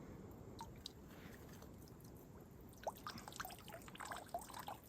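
Water drains from an old, waterlogged blacktail deer antler in small trickles and drips, faint and close over a quiet background, with scattered wet squishy sounds.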